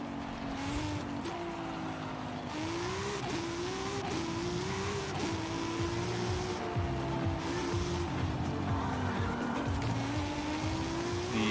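A Mazda NA Miata track car laps a circuit with its engine droning continuously, pitch rising and falling through the gears while tires squeal and skid through the corners, heard steadily from close by.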